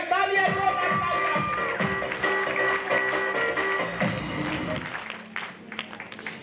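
An audience at a function claps in loud, sustained applause. The clapping stays steady under a speaker's amplified voice and a low rhythmic musical beat, then tapers off near the end.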